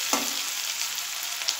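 Onions frying lightly in a pan for a chicken stomach dish, a steady bright sizzle with a couple of soft stirring scrapes, close and continuous with no talking.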